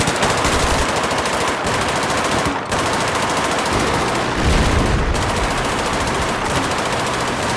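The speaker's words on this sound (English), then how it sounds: "Nice shooting, Tombstone" Sustained automatic machine gun fire from Battlefield 4 rattles continuously and loudly for several seconds, with dense rapid bursts and a brief pause, overlaid by a heavier boom near the middle.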